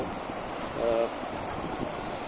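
Steady broadband wash of surf on a beach with wind noise, at sunset, a faint voice briefly rising midway.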